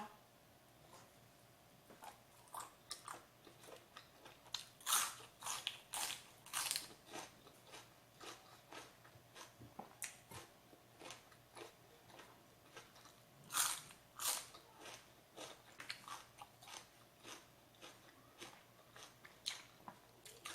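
Someone eats apple snails, sea urchin, goose barnacles and oysters close up, with repeated crisp bites and crunches coming in irregular bursts between quieter chewing, fairly soft overall.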